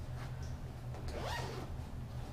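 A zipper on a side pocket of a Dynamic Discs Commander disc golf bag, opened in one quick ripping pull up close over a steady low background hum.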